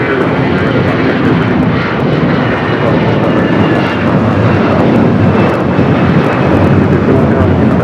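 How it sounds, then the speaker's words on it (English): An American Airlines Airbus A321 airliner takes off on runway 25 Right at Los Angeles International Airport, a loud, steady jet engine roar that holds for the whole stretch without letup. "We do have a American A321 rock and rolling down at 25 right."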